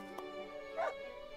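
A dog barking in the farming life-sim video game Everdream Valley, two short yips over soft steady game music, fairly faint.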